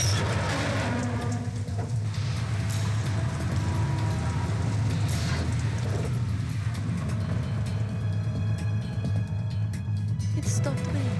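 Steady rain falling in the Metal Gear Solid 2 video game, a continuous hiss of drops with a low rumbling hum underneath, even and moderately quiet throughout with no spoken words.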